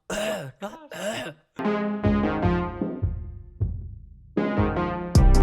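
A person coughs several times in harsh, separate bursts with short pauses between them, close and fairly loud, with a throaty, voiced quality.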